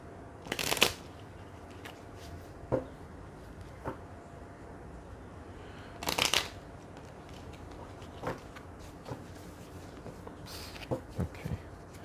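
Flower Petals mini oracle cards are shuffled close by in a few quick riffling bursts separated by pauses and light taps, quiet over soft room noise, with no voices.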